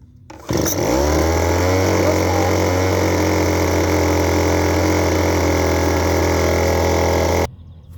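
A Craftsman leaf blower's small two-stroke engine catches after a brief start attempt and settles into a loud, steady drone close by, running evenly for about seven seconds before cutting off abruptly.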